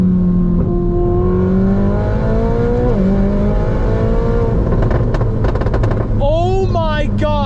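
A loud Ferrari 488 Spider engine revs and climbs through the gears, with crackling exhaust pops and burbles on the overrun near the end.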